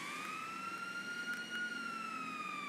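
Ambulance siren in GTA, a steady wailing tone that sweeps slowly up and down, moderately loud and continuous throughout with no talking.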